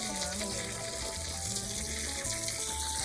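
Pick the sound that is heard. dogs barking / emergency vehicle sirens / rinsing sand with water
rinsing sand with water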